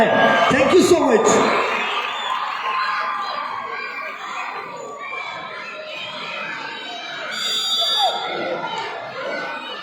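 Spectators at a 2021 Pakistan Army versus Pakistan Navy volleyball match in Islamabad's Pakistan Sports Complex cheer and whoop in a loud burst that eases into sustained crowd noise, then swells again near the end.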